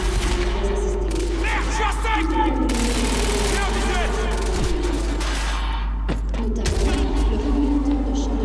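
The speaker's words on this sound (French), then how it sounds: "Le pistolet rafale." Burst-fire pistol shots in the video game Quantum Break, industrial zone, sounding as clustered rapid volleys over a dense, busy game soundscape with music, with a voice talking throughout.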